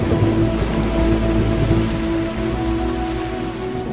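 A heavy night storm of rain and strong wind, used as an effect in a children's story, gives a steady, dense rush of rainfall with a low rumbling undertone and no voices.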